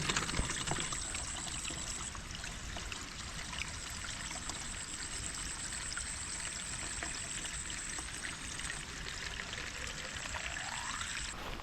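Water pours steadily and continuously nearby, a constant rushing splash with a faint high whine in the background.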